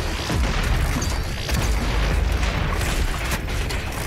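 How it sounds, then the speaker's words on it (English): A sticky bomb going off in the Doom Eternal first-person shooter, a dense, loud rumbling blast that fills the whole stretch with sustained booming and crackling debris, with no voices over it. "one shell whenever I do that sticky bomb attack"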